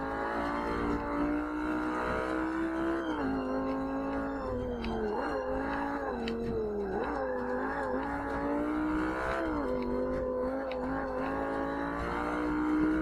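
A Lamborghini Superleggera engine races in Forza Motorsport 5 on Xbox One, a loud continuous high-pitched whine that rises and falls with shifts and cornering, steady and close throughout.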